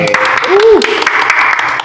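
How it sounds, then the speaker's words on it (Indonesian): Clapping from a small podcast audience crackles steadily throughout, while a voice speaks briefly over the applause near the middle. "Tepuk tangan."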